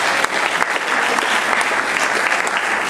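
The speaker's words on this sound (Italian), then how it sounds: "Un applauso a Cecilia." Dense audience applause in an indoor hall, a loud continuous wash of clapping from many hands sustained evenly throughout.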